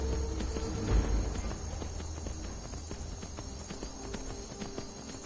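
Hooves clip-clop from a horse in the video game Skyrim as it climbs, a steady, soft rhythm of thuds over a bed of ambient game noise, with no voices.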